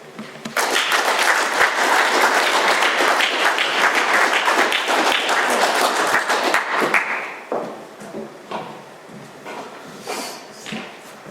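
Loud, dense applause from a crowd at an Alcoholics Anonymous meeting, holding steady for several seconds, then thinning into scattered claps as it dies away.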